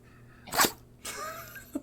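A dog sneezes once, a sharp, close burst followed by a short snort, then a faint snuffle afterward.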